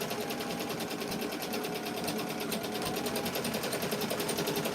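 A Ricoma EM-1010 embroidery machine stitches thick material with a steady, fast, even mechanical whir and rapid needle chatter, loud and close throughout.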